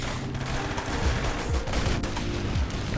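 Gunfire in the Roblox game Arsenal, rapid overlapping shots forming a dense, continuous rattle with low thumps, loud and close throughout.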